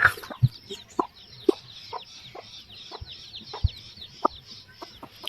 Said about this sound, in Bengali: গলাচুলা মুরগি,